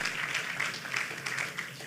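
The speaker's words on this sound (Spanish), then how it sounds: "Denle ese aplauso al Señor si usted quiere estar ahí" Church congregation applauding the Lord during a sermon, a steady wash of many hands clapping at moderate loudness for about two seconds, with no voice over it.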